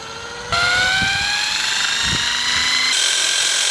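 A power drill spins a heavy wheel up to a few thousand RPM, its motor whine starting abruptly and rising steadily in pitch, loud and close, with a few knocks underneath and no talk.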